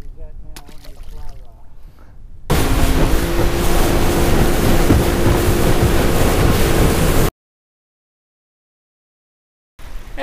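Strong wind of about 20 knots buffets an outdoor fishing spot, roaring loudly and steadily against the microphone for several seconds after someone briefly talks, then cuts off abruptly.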